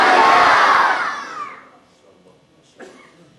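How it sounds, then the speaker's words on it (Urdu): Large crowd at a milaad religious gathering shouting Subhan Allah in unison, a loud, massed roar that swells at once and then fades away, followed by a faint voice afterward. "اونچی آواز سے کہیے سبحان اللہ۔"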